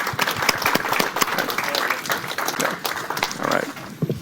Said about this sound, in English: give our panelists a round of applause